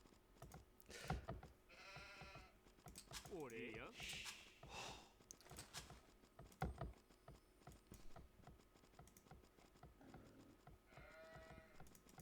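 Sheep in the video game Age of Empires II bleat several times at moderate volume, mixed with game effects, keyboard tapping and a commentator talking over them.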